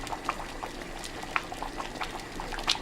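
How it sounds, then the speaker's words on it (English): Nigerian white soup (afia efere) from Akwa Ibom, thickened with melted yam, boiling in a pot, heard as soft irregular bubbling pops and gurgles over a low simmering hiss, close and fairly quiet. "I will just leave it and it keep on boiling."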